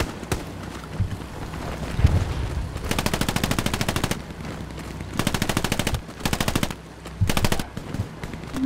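Bursts of automatic gunfire in the Hell Let Loose shooter game, several rapid rattling volleys separated by short pauses, loud and close over a low rumbling battlefield background.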